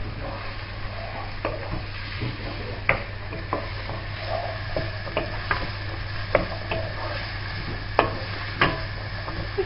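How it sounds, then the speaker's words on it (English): Carrots fry in oil in a pan for vegetable samosas while a utensil stirs them. Irregular light scrapes and taps sit over a steady low sizzle, with no talking. "continue stirring so you're getting even oil all around the pan"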